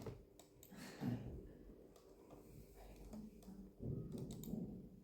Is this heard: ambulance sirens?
no